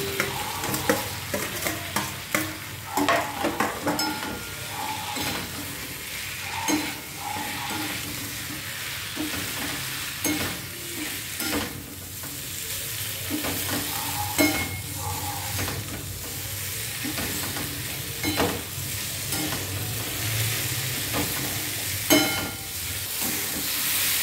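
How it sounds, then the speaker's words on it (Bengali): Potatoes tossed into spiced masala in a hot pan, frying with a continuous sizzle and hiss while a spoon repeatedly stirs and scrapes, close and fairly loud throughout, with no talk. "কষানো হয়ে গেছে, এর মধ্যে দিয়ে দেবো আলুগুলো।"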